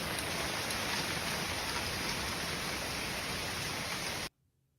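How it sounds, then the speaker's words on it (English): Hailstones pelting a backyard in a small hailstorm, a dense, steady hiss of countless pattering impacts that holds loud and even before cutting off abruptly near the end. "this is my backyard in this little hailstorm we got"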